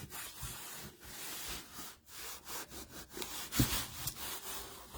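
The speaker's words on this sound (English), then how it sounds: "I'm going to turn it over and give it a good rub down on the back side as well" The back side of a flower craft piece is rubbed down by hand, producing a close, rhythmic scraping and rasping, stroke after stroke with short pauses between.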